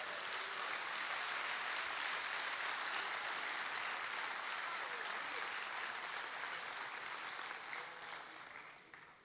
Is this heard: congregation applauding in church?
yes